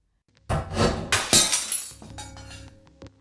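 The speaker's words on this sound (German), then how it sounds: "Man hörte einen Schnappen, so als sei eine Arretierung gelöst worden, und das Zerschellen vom Glas." A framed picture drops and its glass shatters in a radio play, with a sharp crash followed by tinkling shards and a lighter clink near the end, loud and close with no talk.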